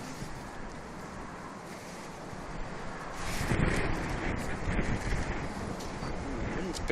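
Gusty wind buffets the microphone outdoors at Manchester Airport, a broad steady roar that swells louder about halfway through and stays strong to the end, with no one speaking.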